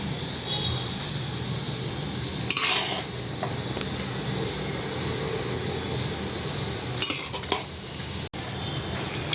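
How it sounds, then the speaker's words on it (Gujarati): White sauce pasta being served from a pan onto a serving plate, with steady clinks and scrapes of a utensil against metal and a couple of brief sharper clatters over a continuous low background hiss. "હવે આપણે સર્વિંગ પ્લેટમાં કાઢી લઈશું"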